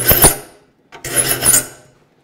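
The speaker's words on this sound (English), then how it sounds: "watching these little marker flats and filing until they're gone" A hand file rasps across the teeth of a rip hand saw, two close, dry strokes separated by a brief pause.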